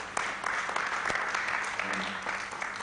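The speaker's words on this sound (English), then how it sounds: "Let's give a round of applause to Claudia." Conference audience applauding a presenter after her talk, a steady wash of clapping through the short stretch with a few sharper individual claps standing out.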